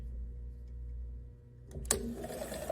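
A sewing machine edge stitches a pant seam in a short close burst, starting after a quiet low hum and bringing a sharp mechanical clack and whir, fairly faint overall, with no talking.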